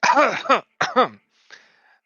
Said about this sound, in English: one of the guys coughs in the background